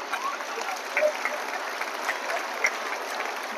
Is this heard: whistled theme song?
no